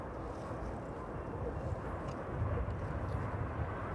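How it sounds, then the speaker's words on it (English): A Ryanair jet bound for Krakow rolls along the taxiway at East Midlands Airport in the evening, giving a steady low engine rumble that swells slightly toward the end, with no voices. "The Ryanair service to Krakow quickly making its way down the taxiway this evening."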